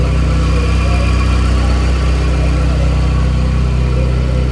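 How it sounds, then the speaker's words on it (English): A cold Mazda RX7 rotary engine idles roughly, a steady close-up drone with an uneven, lumpy pulse running the whole time and no talking. "The idle sounds pretty rough too"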